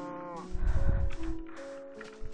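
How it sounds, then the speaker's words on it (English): A cow lows in the video game Minecraft, a single drawn-out moo heard loud and close, with a few short thumps mixed in and no talking. "Hit that cow with a bone."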